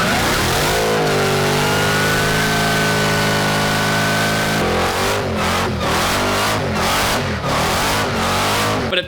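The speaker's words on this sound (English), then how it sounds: "I think it's the best sounding Hellcat Redeye I've ever heard." A Dodge Magnum with a swapped Hellcat Redeye engine making 800 wheel horsepower holds a loud, smooth rising rev, then breaks into a choppy run of sharp repeated throttle blips, close and alone.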